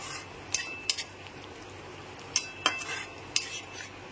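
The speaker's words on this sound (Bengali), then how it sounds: "ঘিটা খুব ভালো করে মিশিয়ে নিতে হবে।" A spoon stirs ghee into potol pasinda, a pointed gourd curry, in a pan: a few sharp metallic clinks against the pan, spaced irregularly over a quiet background.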